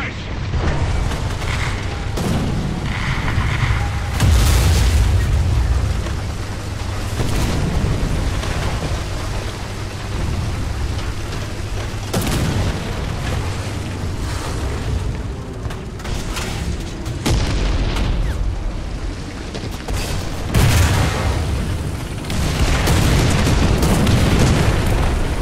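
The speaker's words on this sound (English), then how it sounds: "artillery barrage!" Artillery barrage in a World War II tank battle video game with a T-34 1941, heavy booms and rumbling blasts rolling over a noisy battlefield for a long stretch, loud and sustained.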